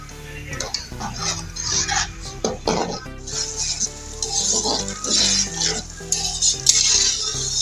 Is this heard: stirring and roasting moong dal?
yes